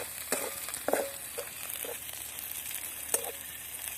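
Garlic and green chillies fry in a pan for kanda poha with a constant, close sizzle, punctuated by a few sharp clinks and scraping taps; no one speaks.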